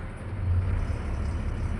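A bus rumbles past close by on the road, a brief, loud, low engine roar and tyre whir heard from nearby traffic.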